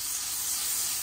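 A keto breakfast pizza seasoned with Greek oregano, pepper and salt sizzles in a pan, a short bright continuous hiss heard up close with nothing else over it.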